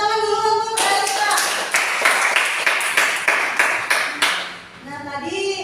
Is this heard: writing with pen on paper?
no